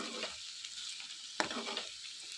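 Dried fish stirred with onions and chili powder in a hot pan for a curry, quiet sizzling under a few scraping stirs and one sharp clink of a utensil against the pan.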